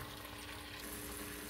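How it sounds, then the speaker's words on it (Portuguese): Ingredients fry steadily in a pan for a bread-filling recipe, a continuous close sizzle with dense crackle and no voices over it. "Seguindo na nossa fritura"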